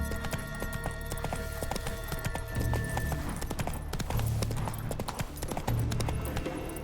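Roach, a horse in The Witcher 3, gallops with steady rhythmic hoofbeats over a game soundscape, with brief bursts of voices and low effects.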